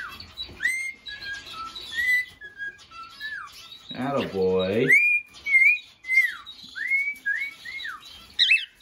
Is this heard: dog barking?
no